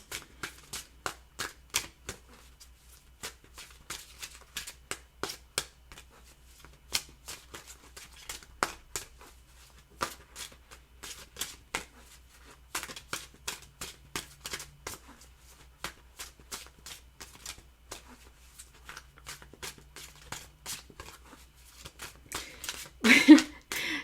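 Soft, rapid riffling and clicking of tarot cards being shuffled, repeated in bursts with short pauses, close and fairly quiet.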